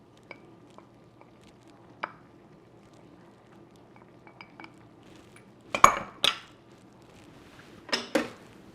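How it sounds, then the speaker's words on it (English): Metal utensil clinks and scrapes against a pot while cheese is stirred into a hamburger casserole, a few soft taps early on, then two louder clustered knocks near the end, with no talking. "we're going in with our cheese, and we're going to just go in, and you're going to stir"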